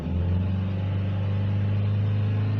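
A Vauxhall Astra 1.4 petrol engine idling and held at raised revs, a close, loud, steady hum and rumble with no speech.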